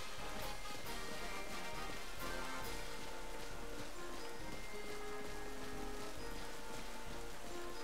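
Steady rain falls in the Pokémon Scarlet video game, a dense continuous patter of drops on the ground with puddles, even in level throughout and without voices.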